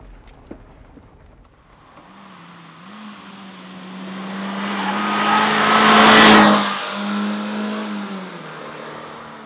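An MG MGF VVC sports car's engine revs up under acceleration, its pitch climbing steadily from a quiet start to a loud, rasping peak, then easing back as the car settles on the road.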